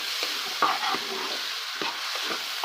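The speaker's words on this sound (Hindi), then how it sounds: "अब टमाटर डालकर इसके अंदर हम स्पाइसेस डाल देंगे। इसको अच्छे तरीके से हम मिक्स करेंगे।" Chopped tomato and spices being stirred in a hot cooking pan for a capsicum and potato curry, a soft continuous sizzle with faint spoon scrapes and scuffs close by.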